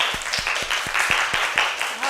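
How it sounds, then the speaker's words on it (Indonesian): A classroom group of students applauds together, a short burst of brisk clapping with rhythmic claps standing out, mixed with chatter. "Tepuk tangan untuk kita semua."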